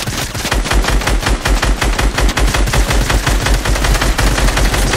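Rapid automatic gunfire in the Fortnite video game, loud and continuous bursts of dense shots with heavy low thumps throughout.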